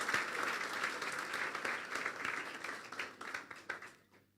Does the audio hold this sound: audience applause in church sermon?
yes